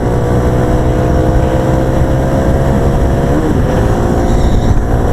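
A Kawasaki KLX 300 motorcycle cruising on the highway, its engine holding a loud, steady drone mixed with constant wind rush, close and unbroken throughout.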